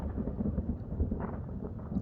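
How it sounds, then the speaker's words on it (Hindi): Low, continuous thunder rumbles steadily across the sky with dull swells and no sharp cracks, a distant storm sound with no voices. "आसमान में बादल गरज रहे हैं"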